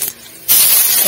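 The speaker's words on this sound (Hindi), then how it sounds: "तेल हो गया है, इसमें मैं जीरा डालूंगी" Cumin seeds drop into hot oil and burst into a loud, sudden hiss about halfway through, which then holds as a bright, steady sizzle after a brief quiet start.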